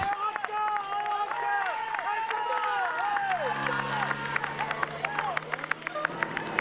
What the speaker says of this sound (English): Sounds like the large majority of the cheers on the side of the road for Thomas Voeckler